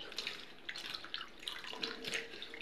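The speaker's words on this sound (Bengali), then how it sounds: "এখানে ভেন্ডি রেখে দিয়েছিলাম, একটু জলের মধ্যে ধুয়ে নেবো" Okra is washed and rubbed by hand in a container of water, with soft close splashing and sloshing through a short quiet stretch.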